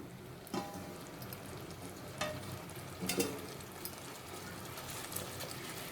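Pieces of fried chicken for Hyderabadi chicken 65 biryani tossed into sizzling masala in a pan and stirred. A steady close hiss of frying runs throughout, with a few sharp scraping clinks of the stirring utensil and no talking.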